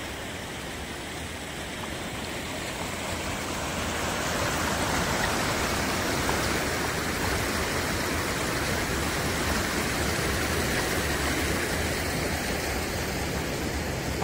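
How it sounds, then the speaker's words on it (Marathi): Fast-flowing floodwater in a swollen stream near Borgaon, Akluj, during a red weather alert, producing a steady, loud broadband rush that holds constant throughout with no talk. "अतिशय जोराचा वेग हा या पाण्याला आहे."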